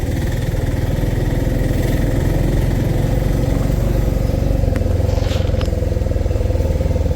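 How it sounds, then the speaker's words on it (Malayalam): Auto rickshaws driving past on a road, heard as a loud, steady rattling engine drone close by with a faint higher whine passing midway. "തിരിച്ചു വരുന്ന ഓട്ടോയാണ് ഇതെല്ലാം ഓടി തിരിച്ചു വരുന്ന വണ്ടികളാണ്"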